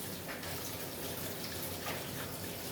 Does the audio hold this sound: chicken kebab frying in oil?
no